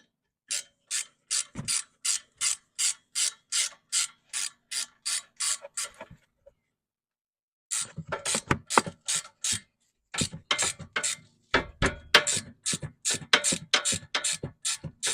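Ratchet tightening caliper bolts on the rear disc brakes of a 2002-2007 Chrysler Town and Country: close, crisp rapid clicking in steady bursts, a brief pause, then more irregular ratcheting runs with no talk.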